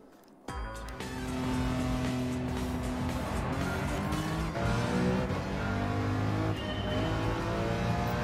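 Race car from the Gran Turismo 7 video game lapping the Nürburgring, its engine note steady and loud after a sudden start, revving continuously with shifting pitch throughout.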